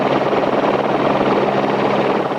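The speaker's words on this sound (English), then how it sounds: "Helicopters brought in water, trying to splash the inferno." Helicopter rotors beating steadily and loudly overhead as aircraft drop water on a raging forest fire, a continuous dense thrum with no voices.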